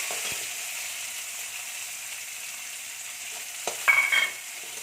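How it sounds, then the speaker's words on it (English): Red chilli and a medium onion frying in a pan for a Karnataka-style thali give a steady, faint sizzle, broken near the end by a brief louder burst of frying as ingredients hit the oil. "I'm going to add the red chilli and 1 medium size onion."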